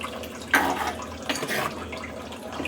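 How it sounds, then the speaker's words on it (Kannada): Water poured into a pot of fish sambar on the stove, giving a short close splash and gurgle followed by a second brief pour and a soft bubbling hiss, with no talking. "ಇನ್ನೊಂದು ಸ್ವಲ್ಪ ನೀರು ಹಾಕೋತೀನಿ."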